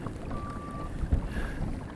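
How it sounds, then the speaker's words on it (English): Wind blowing over marsh water during kayak fishing, a steady low rumble and buffeting against the microphone, with a faint whistle-like tone. "it's a little windy out"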